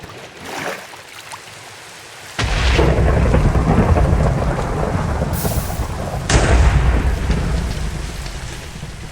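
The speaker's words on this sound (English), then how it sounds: "I'm thinking that thunder did not make me feel confident" Heavy thunder rolls in over a steady rainstorm, with a deep sudden crack and a long rumble, then a second loud burst later, all beneath continuous rain noise and no talk.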